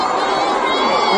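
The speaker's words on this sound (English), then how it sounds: "there was some chanting and booing from the crowd" A large rally crowd in Eldoret chants and boos in a dense, loud, continuous roar of many voices, close and steady throughout the brief moment.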